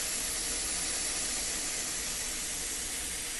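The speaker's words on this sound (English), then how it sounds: "by turning that, it's opening the valve. And we're going to wait until that sprays air" Compressed air rushes out of a sprinkler system valve during a blowout, a loud, steady, broadband hiss that holds unchanged throughout, with no voices.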